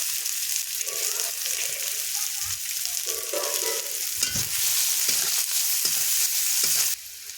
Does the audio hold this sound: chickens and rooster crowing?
no